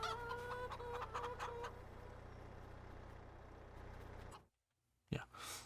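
Chickens cluck in a Farming Simulator 22 farmyard, several sharp clucks in quick succession over a low steady hum, fading out before a short silence and a final burst of sound.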